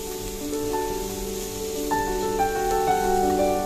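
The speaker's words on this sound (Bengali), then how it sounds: "মাশরুম থেকে যেহেতু খুবই জল ছাড়ে তাই জলটা শুকিয়ে আসা পর্যন্ত আমাদের মাশরুমটা ভেজে নিতে হবে।" Mushrooms frying in a pan on high flame, a steady, moderately loud sizzle with faint stirring scrapes and occasional light clinks.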